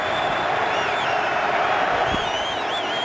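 An NFL stadium crowd at a Rams vs Bears game roars steadily and loudly, with whistles and whoops rising above the sustained din.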